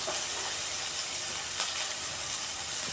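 Onions and mustard seeds frying in hot oil in a pan, a steady dense sizzle and hiss throughout with a brief louder crackle midway, close and continuous with no talking.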